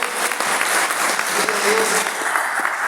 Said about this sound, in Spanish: ¿Cuánto pueden dar un fuerte aplauso al Señor?